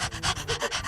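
A person's voice imitating a dog panting, with quick rhythmic breathy huffs repeated about eight times in under a second, close and alone.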